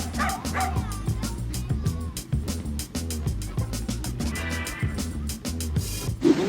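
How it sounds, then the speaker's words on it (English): A stray dog on a busy street barks repeatedly at passing cars, a loud close run of sharp barks and yips mixed with whimpering over a constant background rumble. "stops cars in the most effective way ever, by barking at them"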